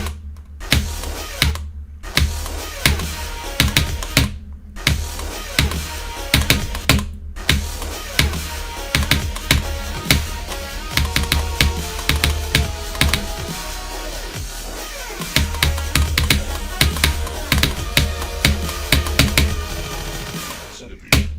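Computer keyboard keys are struck rapidly during a rhythm game level called Centipede, producing close, crisp clicks in fast, rhythmic flurries broken by brief pauses.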